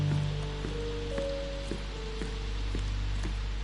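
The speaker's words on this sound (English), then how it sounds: "it was raining early that morning" Steady rain in the Sherlock Holmes Chapter One video game, a continuous soft hiss with scattered drop ticks, heard alone beneath a low game hum and faint tonal music.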